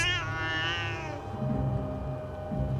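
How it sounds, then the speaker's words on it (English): A zombie cat in Buffy the Vampire Slayer gives a single loud, drawn-out meow that bends downward, followed by low rumbling sounds from the scene. "Oh, it was a zombie cat."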